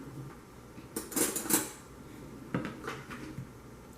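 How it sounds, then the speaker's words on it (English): Metal spoon pressed against the seam of a crescent roll can, a few sharp metallic clicks and clanks close by, the loudest around the middle and a softer pair shortly after, otherwise quiet. "press spoon at seam until it pops"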